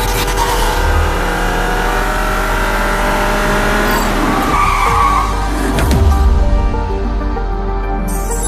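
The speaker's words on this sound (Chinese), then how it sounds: "我刷的一下我就踩了刹车。" A car brakes hard and skids with tires squealing, set against a steady engine and road noise that swells around the middle of the stretch.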